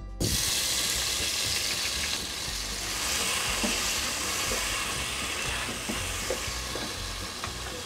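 Tomatoes drop into a pan of frying garlic and cumin for a dhaba-style aloo matar gobhi sabzi, giving a loud, steady sizzle with scattered stirring scrapes and clinks that runs without a break.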